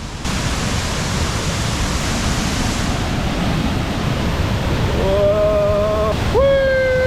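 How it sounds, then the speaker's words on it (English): A big waterfall roars as steady, broadband rushing noise that fills the whole clip at close range. Near the end, a couple of faint tonal whistles or calls rise briefly above the roar. "We're gonna see this big waterfall."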